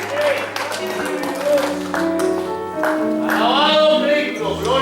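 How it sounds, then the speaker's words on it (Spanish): Members of a church congregation clap for the Lord after being seated, a loud burst of hand claps mixed with voices and musical tones. "denle un fuerte aplauso"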